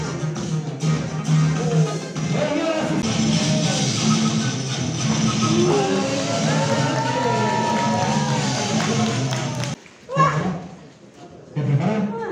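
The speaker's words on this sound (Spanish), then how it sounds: "Fuerte el aplauso, por favor." A crowd at a lucha libre wrestling event at the Templo del Sol roars with sustained cheering and shouting, loud and dense for about ten seconds before briefly dropping away and swelling again.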